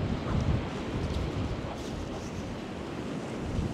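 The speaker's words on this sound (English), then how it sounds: "Oh, the sea's coming after me, Lena." Sea waves wash onto a winter beach at Castlerock, a continuous low roar of surf close by, mixed with gusty wind buffeting the microphone.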